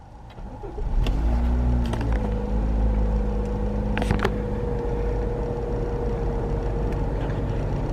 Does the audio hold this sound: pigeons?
no